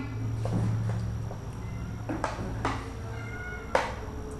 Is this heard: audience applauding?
no